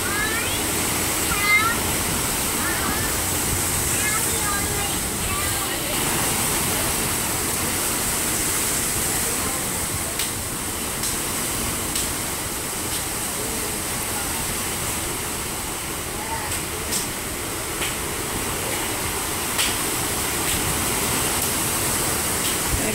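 Ocean waves where turtles swim and ride the surf give a steady, broad wash of breaking water that continues unbroken, with faint voices and small sounds scattered through it.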